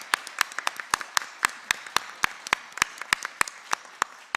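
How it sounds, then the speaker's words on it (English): An audience claps for a panel at the end of a talk on biodiversity and peacebuilding in Colombia, the sharp claps fairly close and steady in rhythm, with no voices over them. "I hope you can just join me with one final round of applause for our panel."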